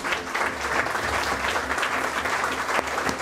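Loud, dense applause from an audience at an IAS coaching institute event, a steady wash of many hands clapping with no talk, sustained for a few seconds.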